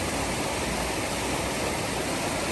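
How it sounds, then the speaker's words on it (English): Water rushing steadily over rocks at a stream crossing along a hiking trail, a loud, continuous broadband wash filling the whole span with no voices. "This is our next water crossing."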